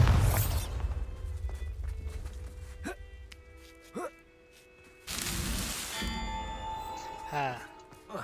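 A Bombarda spell explosion in Hogwarts Legacy: a loud burst at the start, then quieter game sounds with sharp pops, a tonal sweep and a second noisy surge, with a voice heard along the way.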